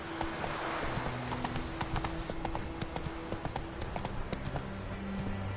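Roach the horse in The Witcher 3 galloping, with a quick steady run of hoofbeats that carries on throughout, close and fairly quiet, over a soft outdoor game ambience.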